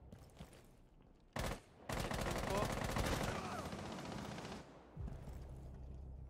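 Gunfire in Rainbow Six Siege, a loud close burst of rapid automatic shots lasting a couple of seconds after a single sharp crack, with quieter game noise before and after.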